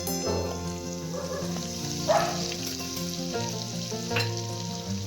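Mustard and cumin seeds sizzle in hot oil in a deep kadhi pan, a steady crackling fry close up with occasional louder pops and a little stirring.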